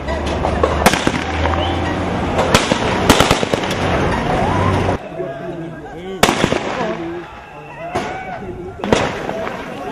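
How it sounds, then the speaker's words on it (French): Police firing Kalashnikov rifles during a prison uprising, sharp loud bursts of gunshots cracking out in scattered volleys over a noisy crowd, with shouting voices throughout. "Les policiers à leur tour se sont mis à tirer à l'aide des fusils kalachnikov."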